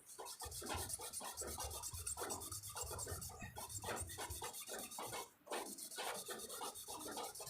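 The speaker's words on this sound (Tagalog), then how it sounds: "So, lihain natin." Repeated rhythmic rasping strokes of sandpaper rubbing against metal, smoothing a groove on an orbit fan part, close up, with a brief pause midway and no talking.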